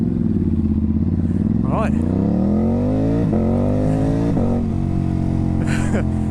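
A Ducati Hypermotard 950 SP fitted with a tuned exhaust revs loudly and close by, its deep engine note climbing and dropping across several throttle blips, with a brief spoken word over it.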